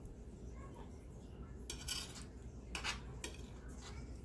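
Fish curry being stirred in a pot with a metal utensil, a few soft scraping clinks in quick bursts, faint and close.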